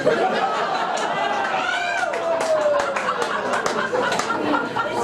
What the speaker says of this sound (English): Why would you clap for that?